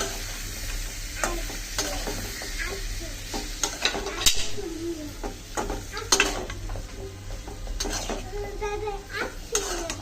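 Eggplant and dried fish sautéing in a pan, with crackling sizzle under repeated scrapes and clanks of a spatula stirring against metal, close and busy, while a voice is heard now and then.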